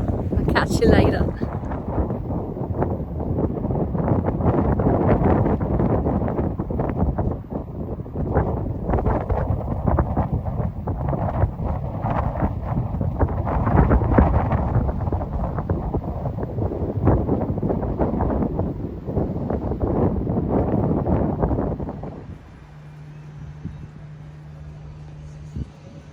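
Rough, gusty wind buffets the microphone for over twenty seconds, a dense roaring rumble that drops away near the end, leaving a low steady hum.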